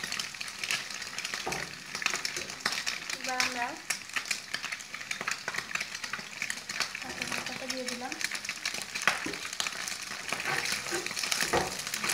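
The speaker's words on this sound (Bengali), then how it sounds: "এবার আমরা ডিমটা দিয়ে দেবো ডিমটা দিয়ে ভালো করে নাড়তে হবে" Beaten egg stirred and fried with browned onions in a pan, a continuous close sizzle with frequent scraping and clinking of a spoon, under a person talking quietly.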